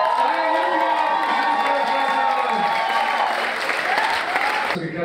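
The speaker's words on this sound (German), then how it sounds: "deswegen auch ein großer Applaus für alle fünf" Sustained applause and cheering from a festive crowd celebrating the German ski jumping team's silver medal at the Deutsches Haus party, loud and continuous throughout with scattered shouts and whoops.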